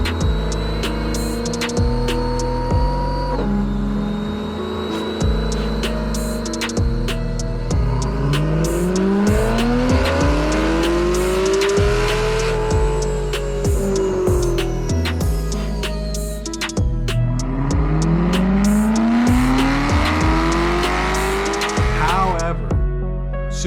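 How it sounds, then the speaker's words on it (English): A loud supercharged car engine revs hard at full throttle through rising and falling sweeps, with a high supercharger whine climbing with each pull, sustained over roughly twenty seconds. "There's nothing like a whine of a supercharger at full tilt."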